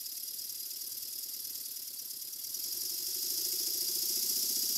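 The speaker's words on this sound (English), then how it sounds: "So I ran the engine fast" A model twin steam engine, belt-driven with pulleys, runs fast as a steady mechanical whirr with a fine rattling pulse, growing a little louder toward the end.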